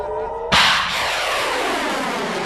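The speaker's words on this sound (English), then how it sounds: "All it does is send up rockets that explode in the air and don't actually intercept anything." Iron Dome interceptor rockets exploding in the air, heard as a single loud, sharp blast followed by a long rumbling decay.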